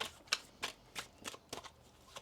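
Tarot cards being shuffled by hand, a series of crisp riffling bursts in a loose rhythm, about six quick flurries close to the microphone with quiet gaps between and no speech.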